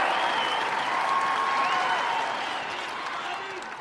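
Big rally audience in Arizona clapping and cheering together, a loud, continuous wash of applause and crowd noise that slowly fades toward the end.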